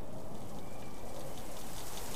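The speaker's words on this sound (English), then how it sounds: "And apparently it's raining." Rain falls in a video game, a steady, even hiss of dense drops that is constant and fairly loud, with no speech over it.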